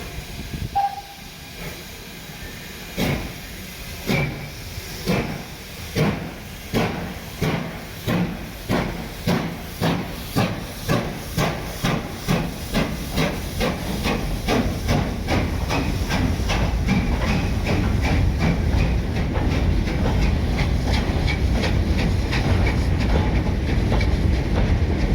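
A steam locomotive pulls away with a train of loose-coupled wagons on a heritage railway gala, sharp exhaust chuffs starting slow and spaced, then quickening into a continuous roar with steam hiss and rolling wagon clatter.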